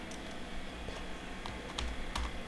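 Computer keyboard typing a search into a browser extensions page, a steady patter of quiet keystrokes with a few firmer taps, close and soft, with no voices.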